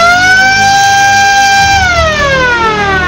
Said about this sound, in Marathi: बिबट्या वेशीवर येताच गावात सायरन वाजणार